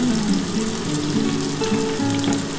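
Onion, cashews, cumin and coriander seeds frying together in hot oil, a dense crackling sizzle with scattered pops and a faint stirring scrape, close and continuous.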